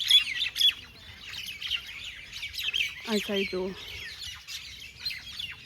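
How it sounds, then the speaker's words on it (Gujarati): A flock of mynas calls near a pond, their chirps and squawks overlapping busily throughout, with a short run of harsher repeated calls in the middle and a voice speaking briefly. "કેટલી બધી કાબરો આવી જુઓ"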